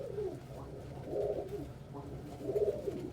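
Pigeons at a feeding spot, including younger birds: soft, low, repeated cooing calls coming in gentle waves, quiet and close, with no talk.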